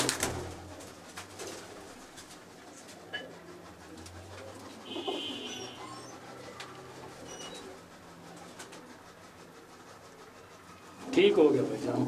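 Home-bred Teddy breeder pigeons coo softly in the background while people talk intermittently, with a louder voice or burst of noise near the end.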